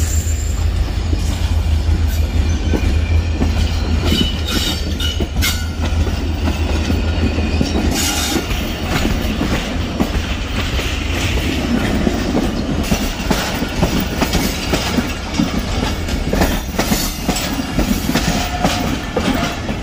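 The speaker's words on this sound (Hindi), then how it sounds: "लेकिन अब मेहरान एक्सप्रेस लूप लाइन से दोबारा मेन लाइन पे आ रही है।" Mehran Express train crossing from the loop line back onto the main line at Dhabeji Railway Station, its wheels rumbling and clacking loudly and steadily close by, with some squeal over the tracks.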